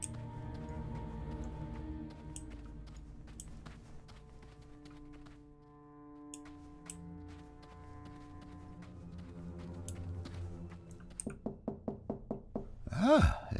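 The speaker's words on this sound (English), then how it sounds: "Ah, the sound of knocking." Knocking on a door at a shipyard in the video game Black Legend: a quick run of about seven hard, evenly spaced knocks, loud and close, following quiet ambient game music and ending in a heavier thump.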